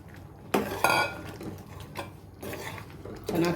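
Kofta balls are dropped into a pot of boiling bottle gourd curry, giving a few clanks and scrapes of a spoon against the metal pot at irregular intervals, with soft bubbling between them and no talk.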